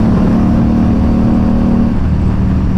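An RS457 motorcycle with an SC Project exhaust pulls at full throttle in second gear on canyon roads, a loud, close, continuous engine roar whose pitch holds and then shifts slightly near the end.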